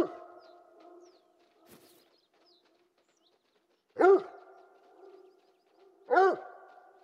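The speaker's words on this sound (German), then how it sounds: "So Hund bellt." A hunting dog in the video game The Hunter: Call of the Wild gives two loud, separate barks a couple of seconds apart, with quieter game ambience and faint sounds in between.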